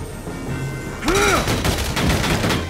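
Rapid bursts of gunfire from a battle at a railway in Valkyria Chronicles 4, loud and close, with a tonal game sound before the shots begin and repeated volleys following.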